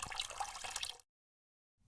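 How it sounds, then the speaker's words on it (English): Dirty water drains from the tank of a cleaning machine in a faint, low splashing gurgle that stops abruptly partway through, leaving near silence before a little noise returns. "First, drain off the dirty water"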